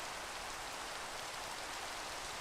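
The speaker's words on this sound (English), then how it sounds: "Can you turn off the rain, please?" Rain falls steadily in Minecraft as a soft, continuous hiss of even, faint static with no other sounds.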